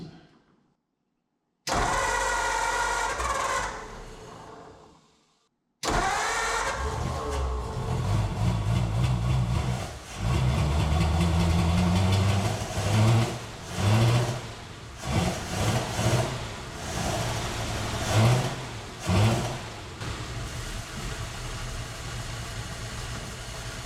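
A 1947 Ford coupe flathead V8, abandoned for 15 years, cranks, then catches and runs loudly and up close, with a rough, uneven idle and several surging revs.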